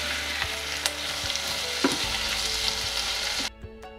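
Onions and tomatoes cook together in a pan with a steady close sizzle, broken by several small clanks and stirring knocks before the sizzle cuts off near the end.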